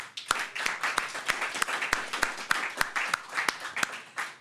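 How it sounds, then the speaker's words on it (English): An audience claps for panelists at a science event, with a brisk mix of many hands and several louder close claps standing out, steady for a few seconds. "join me in a round of applause to our panelists"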